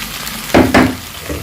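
Chopped tomatoes drop into a pan of frying garlic and green chilli, setting off two quick, loud bursts of sizzling over a steady background crackle of hot oil.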